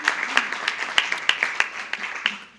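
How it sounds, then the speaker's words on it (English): Brief applause from a small audience at a Tiger Bay Manatee County luncheon talk, a sparse patter of individual claps, fairly close and thin rather than a full roar. "Please give her another round of applause."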